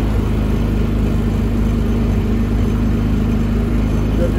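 Predator 3500 inverter generator running on propane, its engine holding a steady, loud mid-pitched drone with an even harmonic hum throughout, no clear change in speed.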